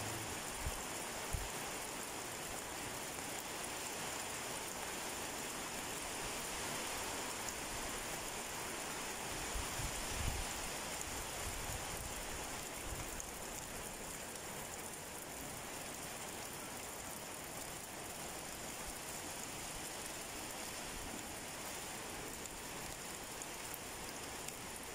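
Rain falls steadily outdoors at a rental unit property in Santo Tomas, Batangas, a constant wash of hiss and patter with a few nearer drips, even and unbroken throughout with no talking.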